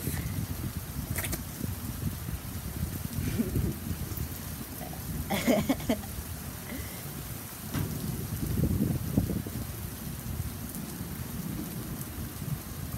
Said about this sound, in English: Lots of rain.